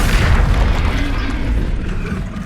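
An Incendio fire spell bursts in Hogwarts Legacy as a sustained, loud, booming blast with heavy low rumble and a broad crackling roar that holds steady throughout.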